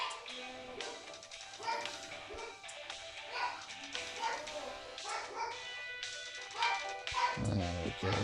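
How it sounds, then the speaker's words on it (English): A dog barks and yips over and over in the background of a home, in short sharp bursts spread across the whole stretch, at moderate loudness amid other household noise. "He starts barking like a madman."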